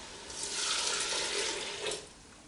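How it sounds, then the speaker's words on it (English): Broth pours into a pot of corn chowder, a close splashing rush that rises, holds for about a second and a half, then tapers off, with a brief final surge and no voices. "So I'm gonna go ahead and add the broth."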